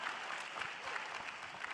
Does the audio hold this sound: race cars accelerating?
no